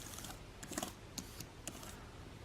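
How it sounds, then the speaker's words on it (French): Typing on a quiet Mac keyboard gives a few soft, faint key clicks, spaced irregularly over a low, steady background. "Le clavier du Mac qui est complètement silencieux."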